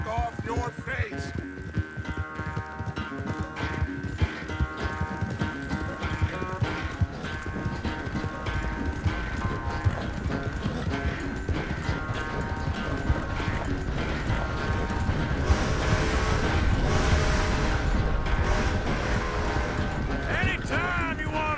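Steady clip-clop of horse hooves in the Red Dead Redemption 2 video game, a regular trotting rhythm under a game music bed, with a snort or whinny and some creaking tack mixed in.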